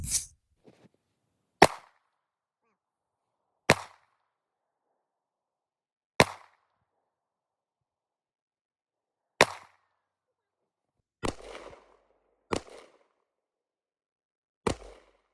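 Rifle shots fired at Tannerite packed into a box of colored snow in remote Alaska on Christmas Eve, about eight sharp, loud cracks spaced several seconds apart with near silence between them and no talking.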